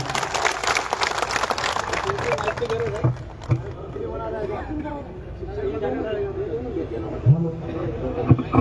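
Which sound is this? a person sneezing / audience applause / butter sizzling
audience applause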